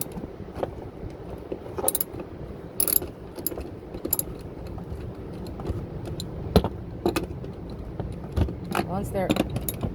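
Ratchet working on the seat bolts of a 2009 Kia Borrego during seat removal, giving scattered metallic clicks and clanks at close range over a steady background, with talk heard in places.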